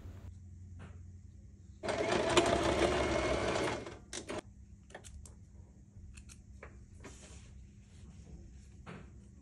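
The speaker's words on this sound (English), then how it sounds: "For the tip also, double fold the tip 1 centimeter and do a top stitch at the end." A sewing machine top-stitches the folded tip of a bag strap in one loud continuous burst of about two seconds. Scattered faint clicks and handling knocks follow, and then a quiet hum.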